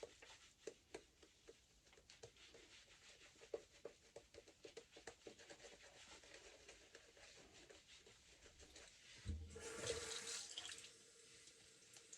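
Soft taps and scrapes of shaving lather being worked give way to a short burst of tap water running near the end, close and fairly quiet.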